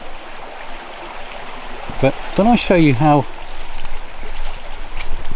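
A small stream on the Vire river flows with a steady soft rushing wash, close by, while someone speaks over it briefly.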